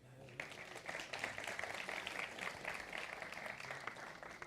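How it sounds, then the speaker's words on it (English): Audience applause at a tech conference talk, a steady round of clapping from a seated crowd that begins abruptly and carries on at moderate volume. "A round of applause for my friend."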